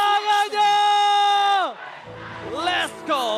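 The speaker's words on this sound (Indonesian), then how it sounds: "MPL Arena, mana tepuk tangannya?" At the MPL Arena during game 3 of Team Liquid ID versus Geek Fam ID, a loud sustained shout rings out, then a roaring arena crowd swells with cheers and yells that rise and fall.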